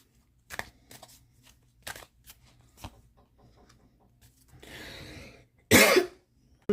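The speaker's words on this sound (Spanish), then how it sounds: "Disculpen la tos." A single person coughs twice, a loud close burst with throat clearing, after some soft handling noises in a quiet indoor room.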